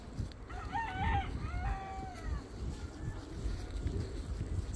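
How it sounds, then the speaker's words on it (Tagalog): Chickens roaming freely on a cow farm at Spittal Pond, Bermuda, crowing twice in a row, with clucking mixed into steady outdoor ambience and light background noise. "So yan, mga chicken dito sa island."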